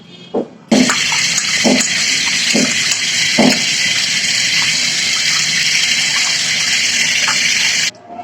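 Tap water gushes steadily into a vessel while vinegar-marinated chicken is washed, with a few soft knocks and handling thuds near the start and the flow cutting off at the end.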